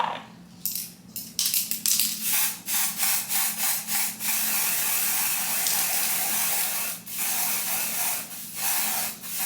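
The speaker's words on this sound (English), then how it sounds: "spray this with a little bit of lace tint" Repeated short hissing sprays of lace tint from a pump bottle onto a wig, several quick bursts followed by longer continuous spraying up close.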